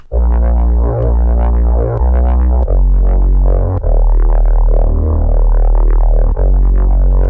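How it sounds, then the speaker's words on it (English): A giant, squashy Reese bass synth built from a seven-voice detuned patch for a progressive breaks track, thick and loud, droning continuously with low-end weight and a few short gaps and re-attacks. "the really giant Reese squashy bass thing"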